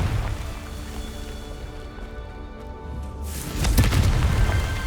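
A Confringo blast spell going off in the Hogwarts Legacy video game: a steady rumbling game backdrop that swells into a louder booming burst near the end.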